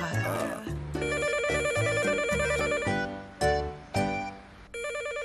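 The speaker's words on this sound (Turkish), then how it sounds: "Telefon." A melodic electronic ringtone plays a repeating tune, fairly loud and steady throughout, with a few brief louder accents near the end.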